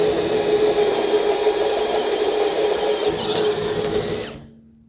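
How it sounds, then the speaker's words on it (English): A power drill with a 3/8 inch bit enlarges pilot holes for plug welds during a Chevy Viking 60 truck build. The whine is loud and continuous for about four seconds, then winds down and fades out. "And then I'm going to re-drill them"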